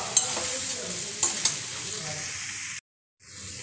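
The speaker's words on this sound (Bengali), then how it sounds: "মুড়ো দিয়ে একটু নাড়াবো।" A fish head stirred in a frying pan, a steady close sizzle with a few sharp spatula clicks, then a sudden brief silence before the sizzle returns.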